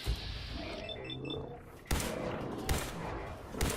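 Cannon fire from the USS Constitution in Fallout 4: heavy booming blasts at intervals, one near the start and louder ones later, over a rumbling background with some faint tonal game sounds.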